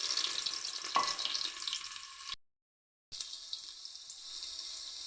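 Mustard seeds, onion and garlic fry in hot oil, giving a bright, continuous sizzle with a sharp pop early on. The sound breaks off briefly into silence, then the frying hiss resumes at a softer level.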